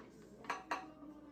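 Plates are handled and lifted during a family cooking challenge with blindfolded, bound-handed cooks, giving two quick, faint ceramic clinks close together in a quiet kitchen.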